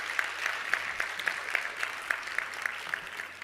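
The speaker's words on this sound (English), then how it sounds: "A round of applause for the Minister." Applause for a government minister at a telehealth conference session, a smallish crowd clapping in a fairly even rhythm, moderately loud and heard without talk over it.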